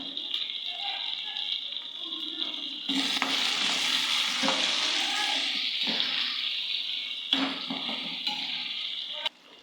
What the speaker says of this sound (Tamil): தக்காளி சேர்த்து நல்லா கலரி விட்டுக்கலாம்